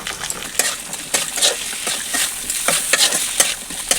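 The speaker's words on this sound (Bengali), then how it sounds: "এইগুলো পেঁয়াজগুলো হালকা ভেজে ভেজে নেবো" Onions and a salted tomato frying together in a pan, a loud, close sizzle running throughout with rapid scraping strokes of a spoon stirring against the pan.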